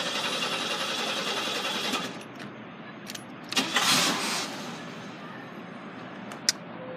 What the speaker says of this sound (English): So here's the 1980s way of starting a car.